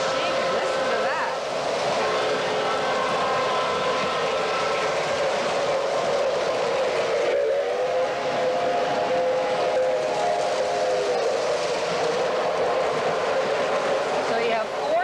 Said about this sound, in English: So you have 4 trains running.